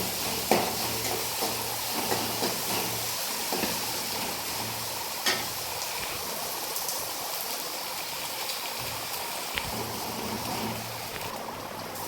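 Onions sauté with rock salt in a pan, producing a soft, steady hiss and sizzle that carries on throughout, broken by occasional sharp clinks and scrapes from the stirring utensil.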